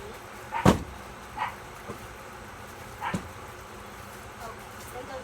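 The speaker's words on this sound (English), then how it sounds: "there goes Bruno barking." A dog barks a few times in the distance, with short, scattered barks over faint background noise.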